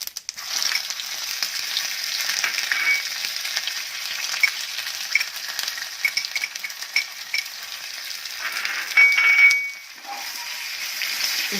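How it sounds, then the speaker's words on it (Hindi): Mustard seeds with ginger and green chilli crackling in hot oil on a low flame, a dense steady crackle and spit of fine pops, close and continuous, briefly swelling louder near the end. "सबसे पहले इसमें राई डालेंगे और राई को तड़कने देंगे और साथ ही अदरक और हरी मिर्च भी डाल देंगे।"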